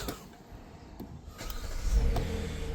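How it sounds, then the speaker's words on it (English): A 2020 Hyundai Palisade engine starts up and settles into a steady running hum, heard close, with a few clicks and a brief rev. "what we're going to do is we are going to run the car"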